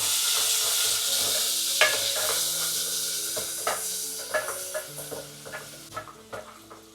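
Garlic, onion and chili frying in a pan, a steady close sizzle with a spatula scraping and stirring in repeated knocks that gradually quiet down.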